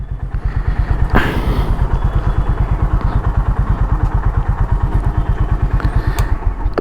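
A 2023 Honda CB350 Highness motorcycle engine idles with a steady, rapid thumping pulse, close and loud, a brief clatter near the start, running evenly throughout.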